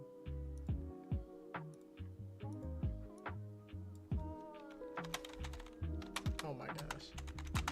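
Rapid typing on a computer keyboard during a words-per-minute game, with quick irregular key clicks running under background music and occasional sounds from the game.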